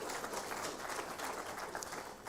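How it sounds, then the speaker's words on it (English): Applause from an audience at a live examination results announcement ceremony, a steady dense patter of many hands clapping at moderate distance, fairly faint throughout with no voices. "Can we also give a round of applause for that?"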